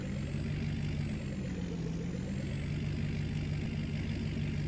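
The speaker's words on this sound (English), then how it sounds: "You want to hear my tractor start up?" A farm tractor engine runs steadily throughout, a continuous low rumbling drone with a faint high whine above it, close and fairly loud, with no voices.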